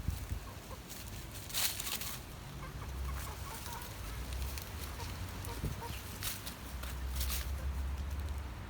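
Chickens cluck softly at a distance over a low, steady background rumble, with a few brief sharper calls now and then.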